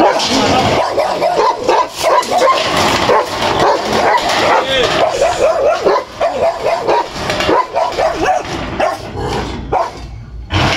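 A dog barks and yips excitedly, close by and loud, amid people talking and the shuffling of a busy scene beside a house.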